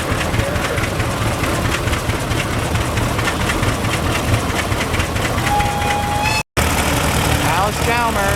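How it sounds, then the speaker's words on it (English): A Rumley OilPull tractor engine runs steadily and loudly at a pioneer gas and steam engine show, its rhythmic thumping continuous across the clip apart from one brief dropout near the end. "Here's the Rumley oil pull tractor."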